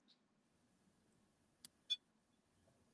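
A multimeter gives two short beeps in close succession, clear but faint over a quiet room hum.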